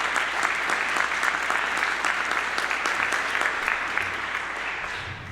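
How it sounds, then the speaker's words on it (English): Audience in a state legislative chamber on opening day of the 2012 session applauding, dense sustained clapping from many hands, loud and even throughout with no talking. "Give yourself a round of applause for that."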